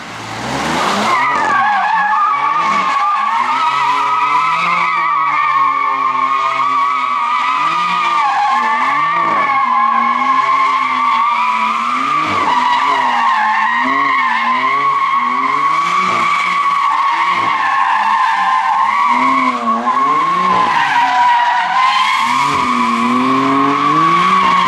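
A BMW M2 Competition does a sustained tire burnout on cheap tires, a loud continuous high-pitched squeal over a revving engine, wavering steadily for about twenty-five seconds.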